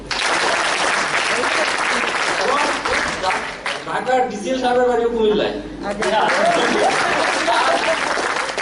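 Loud applause from an audience at a corporate prize giving ceremony, a dense burst of clapping that briefly gives way to someone speaking mid-clip before the clapping swells again.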